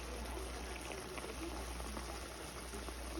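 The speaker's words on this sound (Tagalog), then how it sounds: "Lagyan natin sa konting mainit na tubig para lalong lumambot yung wings natin." Hot water poured into a pan of simmering chicken wing adobo, giving a steady, close hiss and rush of liquid with faint bubbling, continuous for a few seconds with no voices.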